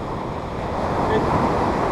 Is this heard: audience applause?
no